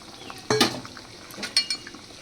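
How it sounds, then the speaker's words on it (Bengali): Chhana fritters dropped into a pan for a vegetarian curry: two soft splashing clatters about a second apart over a faint steady sizzle, close and fairly quiet, with no voices. "এবার দেখো এর মধ্যে আমি দিয়ে দিচ্ছি এই ছানার বড়াগুলো"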